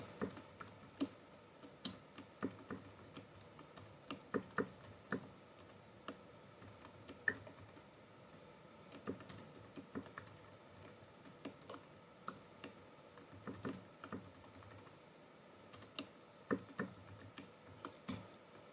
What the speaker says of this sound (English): So let's start out by typing out our HTML5 document structure.